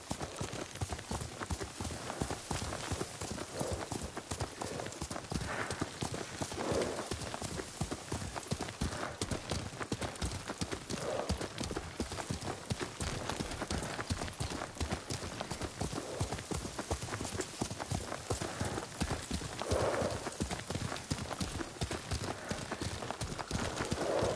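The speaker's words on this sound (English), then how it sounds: "Lord Sakai taught me to ride a horse." Steady, rapid clip-clop of horse hooves at a riding pace throughout, moderately close, with a brief whinny and faint background noise, from the video game Ghost of Tsushima.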